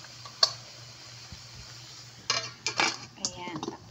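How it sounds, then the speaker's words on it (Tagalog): A metal pot being covered with its lid while coconut-milk shellfish and crab cook, a quiet clink followed by a cluster of clattering rattles over a low hum. "Ayan, takpan mo na."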